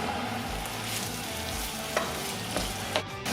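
Pumpkin seeds sizzle in hot oil in a pan as they are stirred for a vegetarian pasta, a close, steady frying crackle broken by several sharp scraping strokes of the spoon.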